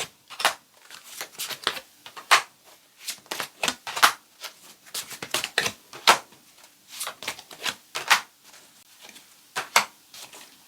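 Tarot cards are shuffled and drawn by hand in rapid bursts of crisp riffling and slapping, close and fairly loud, with short pauses between flurries and no talking.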